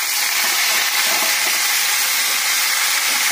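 Bottle gourd leaves hit hot oil with fried black cumin and set off a loud, steady hissing sizzle that carries on evenly, close up with no talk.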